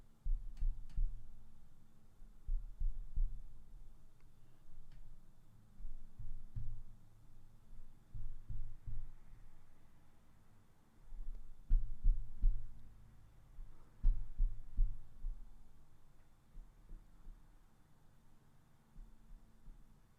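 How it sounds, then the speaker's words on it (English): Light taps on the base of a Shure SM7B microphone, picked up as a series of dull low thumps in irregular bursts over a steady low hum, close and fairly soft, with no talking. "First, I'm going to tap just at the base of the mic."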